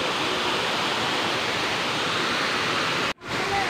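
Busay Falls in Malilipot, Albay, a loud, steady rush of falling water filling the scene with continuous broadband roar, close by, with a brief dropout near the end.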